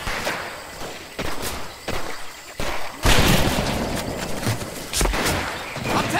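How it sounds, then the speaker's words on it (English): Dense battlefield gunfire in Medal of Honor Pacific Assault, with scattered shots, booming impacts and thuds layered over a constant combat din and no clear speech. "I'm taking fire!"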